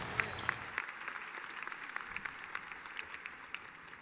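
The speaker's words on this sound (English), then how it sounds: "So let's give a large round of applause for Mr. Maroka." Audience applause at a high school graduation ceremony, a fairly faint, distant patter of clapping that stays steady and fades only slightly.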